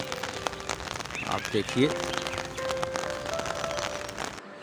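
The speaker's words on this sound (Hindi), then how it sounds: "खूबसूरत और बारिश काफ़ी देर से जारी है।" Steady rain falls in a residential neighbourhood of Kashmir Colony, Taxila, a continuous patter on surfaces running under a man's speech, with scattered brighter drops throughout.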